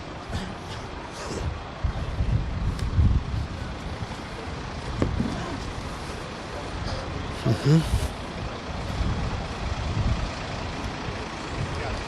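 FC Rubin Kazan's team bus at a stadium after a match, its low engine rumble steady over outdoor crowd noise and nearby voices, with brief hissing and clanks.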